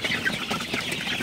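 Sonali super hybrid chickens cluck at night after being given feed and water, with several soft, close clucks and murmurs over a few moments and some faint rustling.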